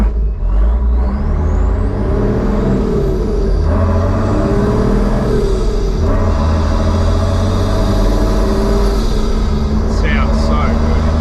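A Nissan Patrol 4WD's engine drones loud and steady while driving, with rising and falling rumble and whine from the cabin and a brief squeak near the end; people talk over it at times.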